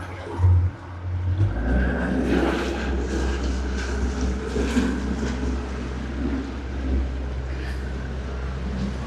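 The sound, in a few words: boat engine during a boat ride in Sharjah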